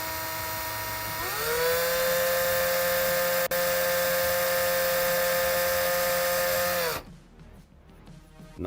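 A small rotary power tool, used like a mini lathe, spins up to a steady high-pitched whine and holds for several seconds, then shuts off, leaving quiet handling sounds.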